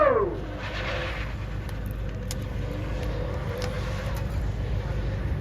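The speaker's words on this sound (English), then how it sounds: "Lovely, lovely tyre burn up in the back there." A supercar lays down a tyre burnout during a runway parade at a hypercar festival, a steady loud roar of engine and spinning rubber that holds throughout, with a brief rising engine sweep at the start.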